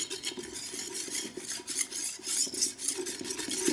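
Gram flour batter being mixed with buttermilk for kadhi, a steady scraping and sloshing of a utensil stirring in a pot, continuous and close, with no voices.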